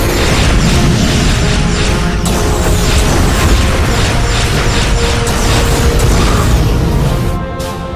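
Starship weapons fire and explosions from a sci-fi movie battle form a dense, loud, continuous roar of blasts, booms and mechanical rumble, unbroken for the full stretch and easing slightly at the very end.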